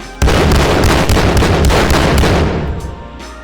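Dual-wielded guns fire in the VR shooter Märche M3, a loud, rapid, continuous burst of close gunshots that ends with a few sparse, fading shots.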